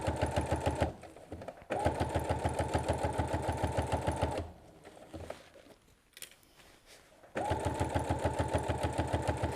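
A sewing machine stitches a lap quilt in fast, steady mechanical bursts, running for a few seconds, pausing, then starting again, close and loud, with quieter handling noise in the gaps.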